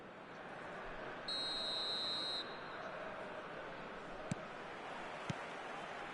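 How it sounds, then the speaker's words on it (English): Referee whistle in the video game eFootball 2026: one steady, shrill blast lasting about a second over a low crowd-like wash of noise. "Whistle goes, and we start the second half."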